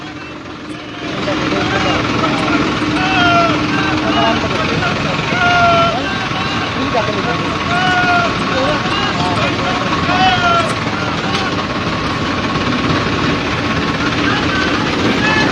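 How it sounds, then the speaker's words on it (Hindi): Farmers' tractors rumble along in a peaceful tractor march through Gharaunda, making a steady, loud engine drone with a continuous low hum while someone talks over it. "एक बहुत ही अच्छा यहाँ पर ट्रैक्टर मार्च शांतिपूर्ण तरीके से घरौंडा में निकाला जा रहा है"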